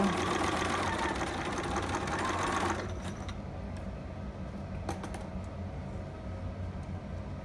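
A sewing machine runs continuously while stitching a two-piece baby sitter pattern, louder for the first few seconds and then settling into a softer, even hum with faint clicks.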